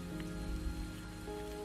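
Rain falls in a steady, unbroken hiss, with low sustained musical tones humming beneath it and no voices.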